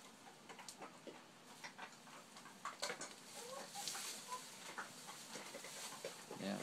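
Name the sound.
chickens clucking in a barn shelter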